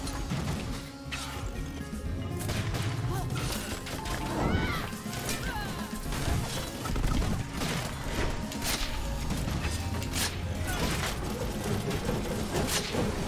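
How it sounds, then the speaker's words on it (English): Rapid blaster fire in the Full Metal Furies video game, with sharp shots repeating over crashes, impacts and busy combat effects and faint voices in the mix. "Blaster fire."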